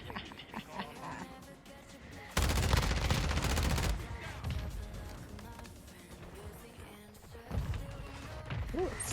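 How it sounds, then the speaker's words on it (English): Mortar strike explosions in a video game, a dense loud burst of booming blasts lasting about a second and a half, followed by scattered rumbling impacts and a second swell near the end, with a voice talking over the action. "Take my fucking mortar strike."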